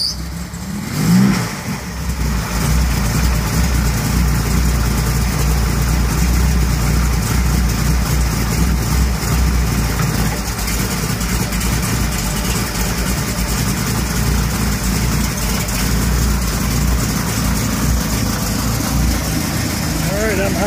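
A rear-engine big-block third-generation Pontiac Firebird idles steadily and loud close by, a deep rumbling drone holding even throughout after a brief bump near the start.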